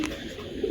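A brief, close coo from a female racing pigeon, a single soft burble with no voices.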